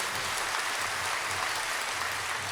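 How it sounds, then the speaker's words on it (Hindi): Soft, steady applause from an audience at a Chaturmas religious discourse in Raipur, heard at a distance as a continuous rain-like patter without pause. "हर आदमी हाथ खोलो और ताली बजाकर अभिनंदन कर लो।"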